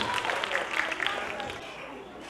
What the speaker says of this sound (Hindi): एक बार प्रेजेंटिंग्स के लिए जोरदार तालियां हो जाए.